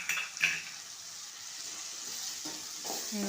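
Grated coconut sautés in a pan for a tamarind fish curry, giving a soft continuous sizzle with a few light scraping stirs and faint utensil taps, fairly quiet and close.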